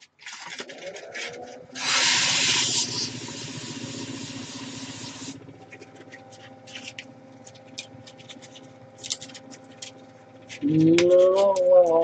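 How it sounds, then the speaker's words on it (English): Sandpaper rubs against the end of a wood-turned piece, most likely spinning on a lathe, with a loud rasping burst near the start, then quieter, steadier scratching over a low hum, and a brief louder scrape at the end. "Just sand up the very end."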